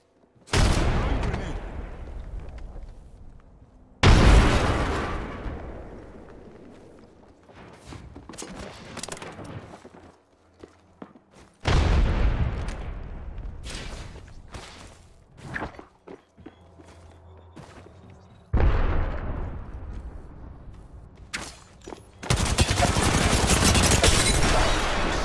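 An Apex Legends match sounds with loud rapid bursts of gunfire, heavy impacts and a blast, coming in repeated intense waves separated by quieter stretches, with no voices.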